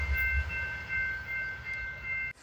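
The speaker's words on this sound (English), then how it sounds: "I appreciate the horn salute" An Amtrak train sounds a brief horn blast in the distance, the steady chord tones hanging over low rumble before cutting off abruptly.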